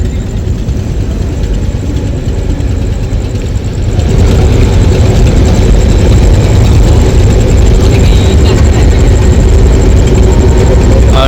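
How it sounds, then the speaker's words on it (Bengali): The engine of the passenger launch Parabat 18 runs as the vessel departs. It makes a loud, heavy, low rumble that swells after a few seconds and then holds steady and close. "এদিকে পারাবত আঠারো লঞ্চটিও ছেড়ে দিছে"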